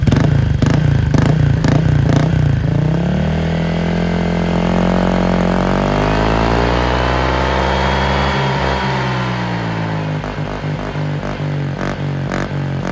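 A motorcycle fitted with a 4ROAD aftermarket exhaust pipe idles close by with a loud, steady, throbbing beat that dips and recovers slightly mid-way, with some mechanical clatter over the top.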